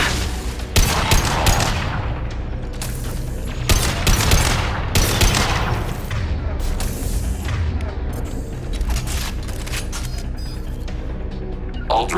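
Automated light-weapon turret in Mass Effect 2 firing in sustained bursts of gunfire, with heavy booms and mechanical clatter in a dense, loud combat mix.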